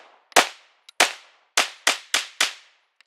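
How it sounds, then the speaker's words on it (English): Rapid-fire pistol shots through a Primary Machine Stealth Comp at an outdoor range: six sharp, loud cracks in quick succession, each with a short decaying tail, plus faint metallic clicks between. "Let's do another magazine, rapid fire, top target, 1-inch target, center mass."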